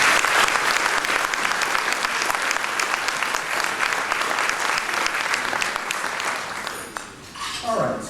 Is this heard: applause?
yes